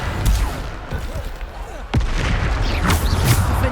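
Bombarda explosion spells in Hogwarts Legacy, loud booming blasts with a sharp impact near the middle, set against continuous combat noise and rumbling debris.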